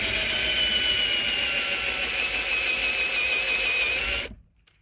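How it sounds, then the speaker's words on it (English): An electric drill bores out rivets on a Land Rover Discovery 2 gear stick plate, a steady high-pitched whine and grind held for about four seconds before cutting off abruptly, close and loud, with no talking. "you just drill the tops off them like that"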